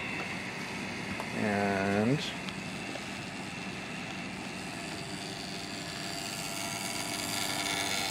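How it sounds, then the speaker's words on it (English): Cooling fan running inside a scalar EM transmitter setup, heard as a steady broadband whoosh with a short wavering tonal whine near the start, and a voice speaking briefly. "the noise you're hearing is a fan"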